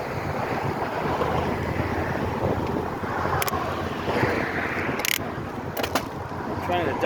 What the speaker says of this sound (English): right now, it's really breezy on the beach